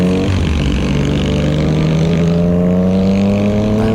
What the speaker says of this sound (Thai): เสียงท่อดังไปด้วย